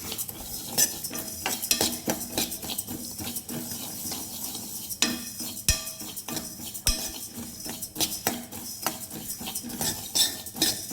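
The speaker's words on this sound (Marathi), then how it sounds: "तेल आणि तेल आणि धणे घालूया व्यवस्थित भाजून घ्यायचं आपण" Coriander seeds roast in oil in a pan, a metal spoon clinking and scraping repeatedly against the pan in a busy, uneven rhythm over a light sizzle, close and fairly loud.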